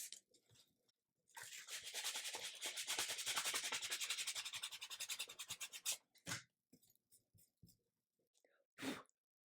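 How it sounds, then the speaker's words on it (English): Light, rapid back-and-forth sanding scrapes over laser-charred wood for several seconds, then trails off into a few short, scattered rubbing strokes. "Let me sand that just really lightly."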